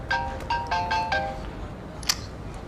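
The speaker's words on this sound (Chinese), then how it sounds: "啊，电话。" A telephone ringtone plays a bright electronic melody of five short repeating tones, then a brief sharp click as the call is picked up, fairly close and alone.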